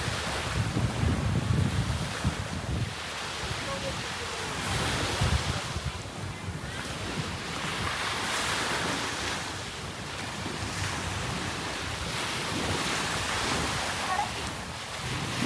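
Ocean waves at high tide wash steadily along a Boracay beach under a full moon, a continuous close surf roar mixed with gusty wind buffeting the microphone, with no voices.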